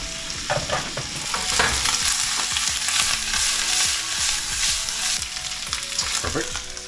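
Turkey frying in melted butter in a pan, a loud close sizzle broken by frequent rhythmic scraping and stirring strokes.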